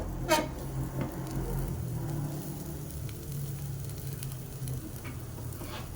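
Butter sizzling in a pan while ragi dosa cooks, a steady close crackle with a low background hum and a brief scrape near the start.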